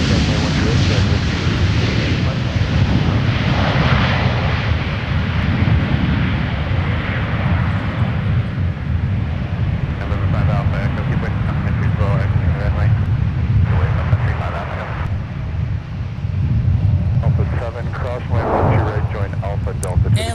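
A Sun Country Airlines Boeing 737-900ER lands at MSP airport with a loud, sustained jet engine roar. Someone speaks over the aircraft noise throughout.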